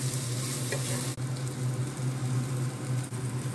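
Oats fry with mixed vegetables in a pan, a continuous loud sizzle with a steady hum beneath and stirring scrapes, no voices.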